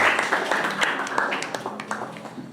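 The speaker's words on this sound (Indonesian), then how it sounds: "kita beri tepuk tangan, aplaus." Students clap together in a classroom, a brisk, scattered patter of hands that holds steady and then thins out, with voices audible underneath.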